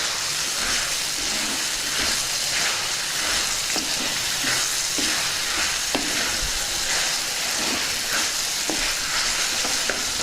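Chopped mushrooms sizzle steadily in a hot frying pan for a Telugu-style mushroom curry, with regular scraping stir strokes cutting through the continuous frying hiss; no voices.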